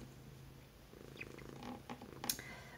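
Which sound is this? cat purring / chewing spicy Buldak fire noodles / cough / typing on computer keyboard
cat purring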